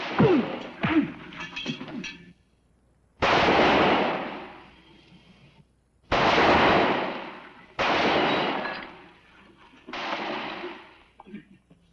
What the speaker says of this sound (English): Fire, I said! Shoot him, you cowards! Shoot him!